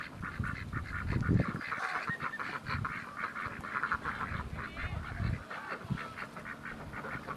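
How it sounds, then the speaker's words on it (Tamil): A flock of ducks at a naturally run duck farm beside an irrigation pump set quacks and honks continuously, an overlapping chorus of nasal calls heard close, with no talking. "நாங்கள் குளிச்சுட்டு இருந்த பம்பு செட்டு பக்கத்துலேயே இயற்கை முறையில் ஒரு வாத்து பண்ணையை பார்த்தோம்."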